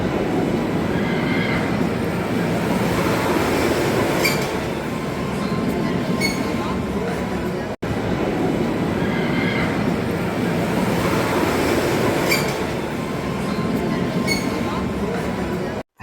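A wooden roller coaster train rolls around an outside corner of its timber track, giving a loud continuous rumble with clattering and creaking structure noise, close by and sustained, with a brief cut midway.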